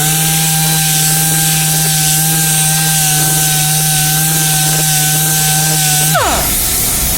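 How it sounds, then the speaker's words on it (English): Orbital sander on a wood edge, a loud steady electric motor hum with a high whine and grainy buzz, close and continuous, then winding down abruptly near the end. "You always want to use the edge pieces of the orbital sander."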